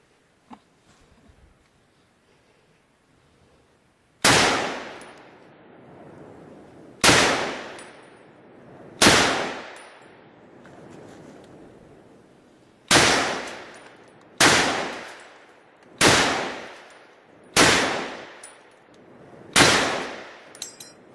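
Armor-piercing 7.62 rounds strike a ballistic barrier panel in eight loud, sharp shots with ringing decays, spaced a second or two apart after a quiet start, one pair fired in quicker succession.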